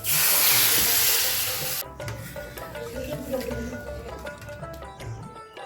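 Water poured into a hot pan of fried potato with green chili, cumin and ginger paste, giving a loud hissing sizzle that bursts at once and then settles into a quieter bubbling simmer.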